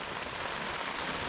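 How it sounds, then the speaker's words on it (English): Steady rain falls outside, a soft, even hiss of drops pattering on surfaces with no voices, continuous and fairly quiet. "Still raining outside, as you can hear."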